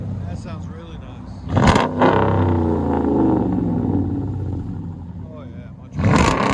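A RAM 1500's 5.7L Hemi V8 with a Black Horse Racing exhaust rumbles deeply nearby, surging in two short revs at the start and end while people talk over the idle.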